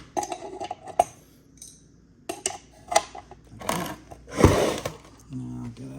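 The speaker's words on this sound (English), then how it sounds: "we need to put a adjustable wrench here to hold that in place while we turn this" An adjustable wrench clinks and scrapes against the motor shaft of a Jandy Pro Flow 2.0 pool pump during a bearing replacement, giving scattered sharp metallic taps and rattles with quiet gaps between them.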